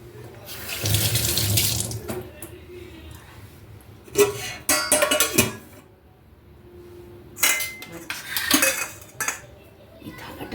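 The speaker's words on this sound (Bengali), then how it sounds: "হাতটা ধুয়ে নিই" Running tap water pours in several bursts as hands are washed, with splashing and a few clinks of dishes in between quieter pauses; no one speaks.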